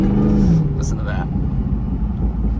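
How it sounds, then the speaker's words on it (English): Dodge Challenger Hellcat Redeye with a light tune rumbles loudly in traffic, its supercharger whine rising and falling with a few sharp exhaust pops, heard close from inside under a man's speech. "It's popping like crazy too."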